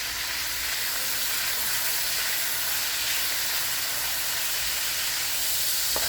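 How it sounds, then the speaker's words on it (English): Chopped green onions and red onions hit a hot pan for chicken fried rice, giving a steady, loud hiss and sizzle that holds evenly throughout with no talking. "I previously chopped up some green onions, some red onions, and I'm gonna go ahead and add that"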